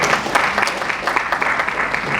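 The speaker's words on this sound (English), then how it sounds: "Give me a round of applause." Loud, close applause from a panel session audience at a Nigerian e-government conference, a dense continuous clatter of many hands clapping throughout, with no talking over it.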